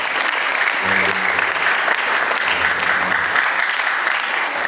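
A crowd at an evening gathering in an Islamic boarding school applauds an honored guest, a dense, continuous wash of clapping with faint speech or low voices briefly mixed in.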